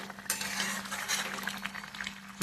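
Chicken pieces being stirred and sautéed in a pan give a soft continuous sizzle, with close spoon scrapes and clinks against the metal and a low hum underneath.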